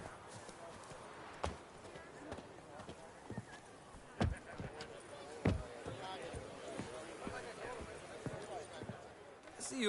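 Roach the horse's hooves trotting in The Witcher 3 video game, a steady clip-clop rhythm under frequent talking, with a few louder hoof strikes standing out.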